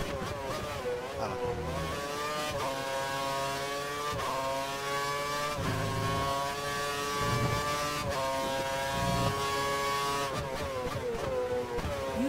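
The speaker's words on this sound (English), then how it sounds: "He's running full revs, maximum power." A racing video game car engine screams at full revs during a Malaysia GP race, a steady high-pitched drone with small pitch dips at gear changes, loud and constant with no voices.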